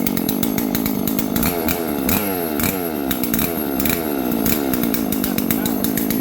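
A chainsaw revs hard and close, its engine whining up and down in rapid bursts with a buzzing, rattling roar throughout.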